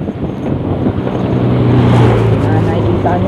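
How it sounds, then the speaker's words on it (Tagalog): Steady engine drone with heavy wind rush from an SYM motorcycle being ridden on the road, loud and continuous throughout. "Nakikita nyo po, yung motor po natin"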